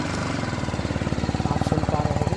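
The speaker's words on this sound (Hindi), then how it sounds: "ठीक है, गाड़ी को स्टार्ट कर लेते हैं।" A BMW G 310 GS adventure motorcycle engine catches and settles into a quick, even idle pulse, close and fairly loud with no talking.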